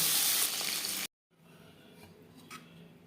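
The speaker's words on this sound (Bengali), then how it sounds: "দুবারই মাছ আমি ভেজে নেব" Fish frying in a pan of hot oil for a Bengali dish, a loud, bright hiss that cuts off sharply, then returns as a quieter, steady crackle with small pops.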